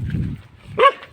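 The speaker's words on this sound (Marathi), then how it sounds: "हे बघ कुत्रा आमचा." A farm dog out in the fields gives a single short bark, fairly close, after a stretch of low rumbling background noise.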